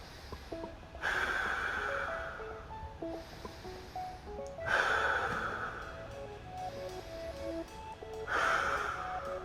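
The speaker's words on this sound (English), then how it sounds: "Just some nice deep breaths here." Slow, deep breaths during a neck and shoulder stretching exercise, three long airy exhalations spaced a few seconds apart, close and fairly soft, with no talking.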